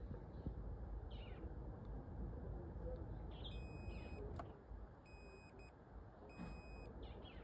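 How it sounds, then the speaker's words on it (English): A multimeter on continuity mode beeps while testing a switch: three faint, steady electronic tones, each roughly half a second long, come at intervals over a low background hiss. "the sound of the beeping from the multimeter"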